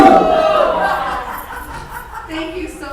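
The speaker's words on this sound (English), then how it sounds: "first I want to see you cheer for me" Town hall audience cheers and chatters as a crowd, a loose wash of voices and a few laughs, moderately loud and continuous.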